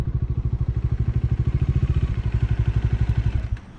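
A motorcycle engine idles nearby with a loud, steady low thumping rhythm, then cuts off near the end.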